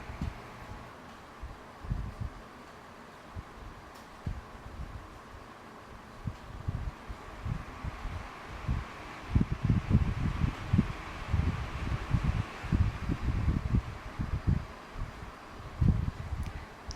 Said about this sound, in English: Natural wind starts with a low speed and builds to the highest speed